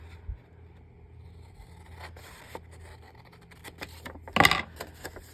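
Paper being cut with scissors to make an envelope, a few quiet snips and scrapes building to a louder rustling cut near the end, with no voices.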